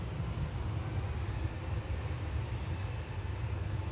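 An airliner rolling for takeoff on runway 23 left at Manchester Airport, a steady distant engine roar with low rumble held evenly throughout, no talk.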